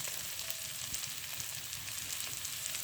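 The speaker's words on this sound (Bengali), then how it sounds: "এবার আমি মশলার ভিতরে কিছু আলু দিয়ে দেব" Potatoes fry in spiced oil in a village kitchen, giving a steady, close sizzle that crackles evenly throughout with no talking.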